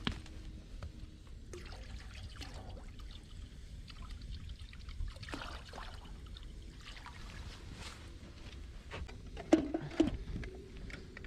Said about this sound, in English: I filled the ammo can with a 50-50 mixture of environmentally friendly antifreeze and water, totaling about 30 liters of liquid.